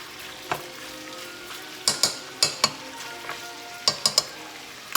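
Pork spareribs brown in a pan under a soft, constant sizzle, punctuated by a handful of sharp clicks and taps from a utensil against the pan.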